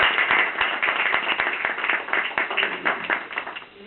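A room at a council meeting breaks into a round of applause, dense overlapping hand claps that carry steadily and fade slightly at the end.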